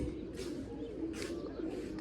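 Soft, low pigeon cooing at moderate distance, a steady murmur with a few brief brighter calls rising over it.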